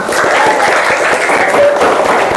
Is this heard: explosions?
no